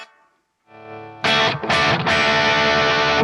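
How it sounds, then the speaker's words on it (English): Electric guitar through a Boss GT-1000 Marshall 1959 Brit Stack patch with short reverb, pedal heel back: a brief note fading quickly, then loud distorted chords struck in a few choppy bursts with a tight, short decay. "when the heel is back, I get the short reverb."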